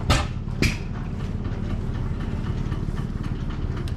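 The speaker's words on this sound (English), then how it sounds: "So, got our little hit and miss engines." Small stationary hit-and-miss engines at an outdoor plow day event thump and chug at a steady low rhythm in the background, with a couple of sharp knocks near the start.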